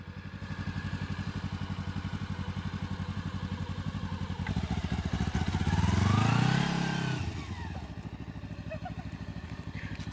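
A motorcycle rides along during a practice session at steady low revs, then swells louder as it passes nearby and fades back into a constant rumble.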